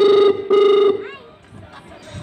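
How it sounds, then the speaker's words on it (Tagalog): An old-style telephone rings in two loud, steady bursts with a short gap between them, followed by a quieter stretch of room noise and faint background chatter. "Parang sinaunang telepono yung ring."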